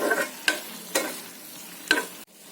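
A spoon stirs prawn pepper fry in a pan over a medium flame, with a few distinct scraping strokes over a soft, steady sizzle, close and alone without talk.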